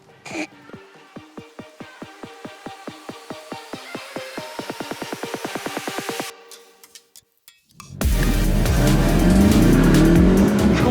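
A Ford Focus ST launches off the line in a quarter-mile drag race, its engine revving up through rapidly rising pulses before a brief lift, then a loud roaring surge as it pulls hard.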